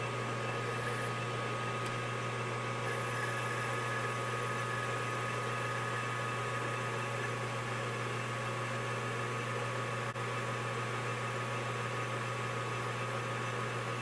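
Metal lathe taking a 0.025 inch cut on a 1986 Ford Bronco fuel filter housing: a steady, continuous machine hum with a low motor drone, even and unbroken throughout, no voices.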